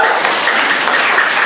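An audience at a live comedy improv show bursts into applause, a dense, loud wash of many hands clapping evenly throughout, with no one speaking over it.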